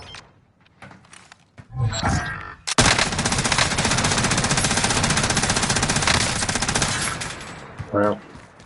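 Call of Duty Warzone gunfire, a sustained loud burst of rapid automatic fire lasting several seconds, preceded by a few scattered shots and followed by a short trailing sound.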